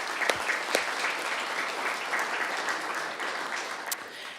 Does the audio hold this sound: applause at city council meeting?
yes